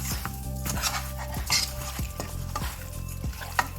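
Seasoning powder stirred into goat meat in a cooking pot, with a steady scraping, clinking stir over a faint sizzle and several sharp utensil knocks against the pot.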